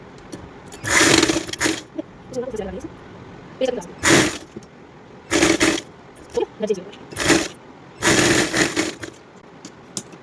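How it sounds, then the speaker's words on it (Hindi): A sewing machine runs in several short bursts of stitching on folded fabric for a small girl's umbrella-cut top, each run a loud close whir, and a person talks in the pauses between them. "फोल्ड करने के बाद यहाँ से सिंपली आपको सिलाई लगा देनी है।"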